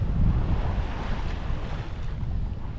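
A sailboat under sail off the French Riviera near Cannes, with steady wind buffeting the microphone and waves washing and rushing against the hull, loud and continuous with no voices.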